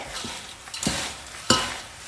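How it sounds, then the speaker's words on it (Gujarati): Hot farali chevdo is stirred and tossed in a pan, with a few dry rustling scrapes and a sharper clink near the end over a soft background hiss, all close and without speech. "ગરમ ગરમ ચેવડો એકદમ જ સરસ રીતના મિક્સ થઈ જશે"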